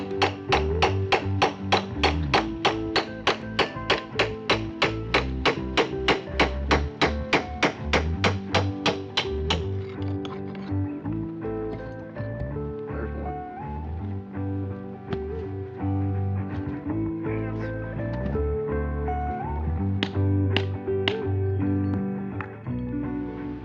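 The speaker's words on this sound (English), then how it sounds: "pop these bricks out in one piece without hurting them" Bricks are knocked out of a brick porch face along cut mortar joints: a fast steady run of sharp hammer-like knocks at first, then irregular louder thuds and taps, close and alone.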